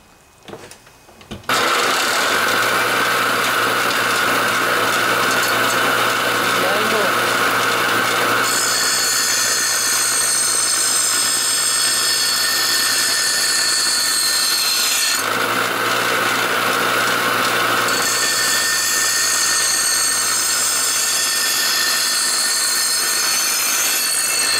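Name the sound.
bench grinder grinding a lawnmower blade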